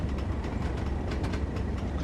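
A Class 37 diesel locomotive on the Tees Valley Line in the Train Sim World game gives a steady, close cab rumble with faint rhythmic clatter, continuous and unbroken, with no one talking.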